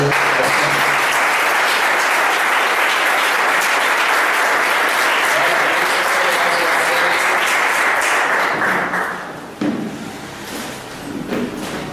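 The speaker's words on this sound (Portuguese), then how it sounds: "Jogue as suas mãos e vamos aplaudir." Church congregation applauds during a service, a loud, sustained wall of clapping lasting most of the clip before fading into a few thuds and scattered claps.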